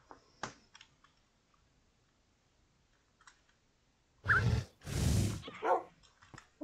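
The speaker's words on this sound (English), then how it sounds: "Oh, where's my dog?" A dog in a Minecraft game gives two loud, close barks in quick succession, preceded by faint clicking and game sounds, with no talking.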